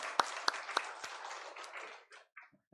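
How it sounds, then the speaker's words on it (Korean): A church congregation at a Sunday worship service claps, a few sharp near claps standing out over a softer spread of hands that fades out toward the end. "우리 하나님께 영광의 박수 올려드리겠습니다"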